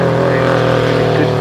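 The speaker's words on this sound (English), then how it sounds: "That is definitely sounds like the flat four of a Subaru" A Subaru flat-four engine pulls hard up the Shelsley Walsh hill climb course, a loud, steady throbbing drone with no pause.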